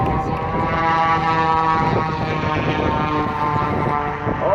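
An aerobatic propeller airplane performs at the 2016 Gaylord, Michigan air show, its loud engine drone sustained and shifting in pitch as it maneuvers overhead.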